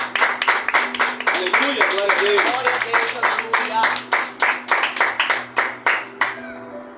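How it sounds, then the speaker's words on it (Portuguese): A Pentecostal congregation claps together in rhythmic, steady beats during a church service, loud and close, while a preacher's voice speaks and exclaims over the clapping until it stops near the end. "Aplauda o nome do Senhor essa noite."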